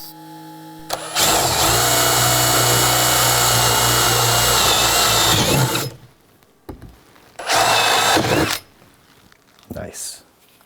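A Tigers Teeth sharpener's diamond wheel grinds an oscillating multi-tool blade in loud, harsh sustained bursts: one long run of about five seconds, then a shorter burst and a brief final touch, with quiet gaps between.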